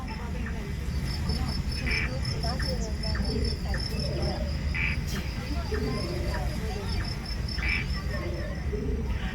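A dense, steady chorus of crickets chirps continuously in a forest at night, with a few brighter chirps rising above the constant trilling background.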